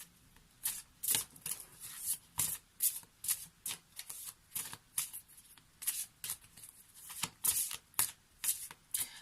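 Water spirits oracle card deck being shuffled by hand, a regular series of crisp riffling swishes repeating roughly every half second, close and fairly soft, with no talking.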